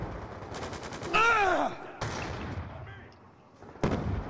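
Gunfire from the video game Call of Duty: Black Ops 2 comes as loud bursts and booming shots with a whining ricochet-like tone, then scattered sharper blasts, with game noise underneath.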